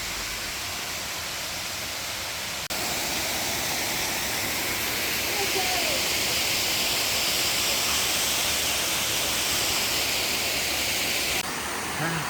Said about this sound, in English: Finally I can see the waterfall and can hear that noise.